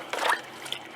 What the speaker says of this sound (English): we're just going to dunk this thing in a bucket and soak it down